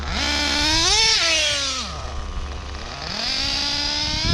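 A Picco P7-R nitro engine in a TLR 8IGHT X Elite RC buggy on blacktop screams through two short throttle bursts, pitch climbing, dropping back to a rough idle, then rising again.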